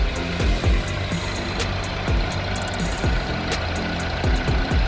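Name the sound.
Honda 2.0L i-VTEC car engine idling at 700 rpm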